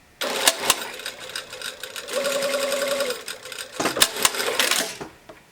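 A sewing machine stitches a seam along the vent of a garment's undersleeve, running in steady bursts with short pauses and clicks between, close and fairly loud with no talk over it.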